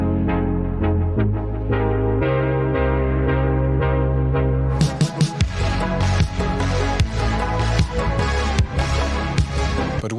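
A synthwave beat plays throughout with sustained layered synth chords and a deep bass. Around halfway through, punchy drums and brighter percussion come in and the groove fills out, loud and continuous.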